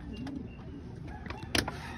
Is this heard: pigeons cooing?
yes